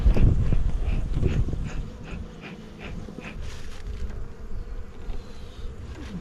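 Honeybees buzz around an opened hive during a spring inspection after winter, a busy, wavering drone of many insects close by, with a few sharp rustles and knocks of frames being handled early on.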